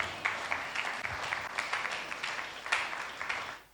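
A church congregation claps during a Sunday service, a moderate, fairly distant round of applause with scattered sharper claps, fading out at the end.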